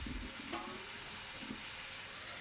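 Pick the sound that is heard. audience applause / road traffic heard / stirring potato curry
stirring potato curry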